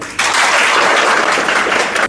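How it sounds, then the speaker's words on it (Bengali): Applause from a crowd at a certificate handover ceremony, a loud dense burst of clapping that starts abruptly, holds steady for about two seconds and then cuts off. "সবাই তালি দেবেন সবাই"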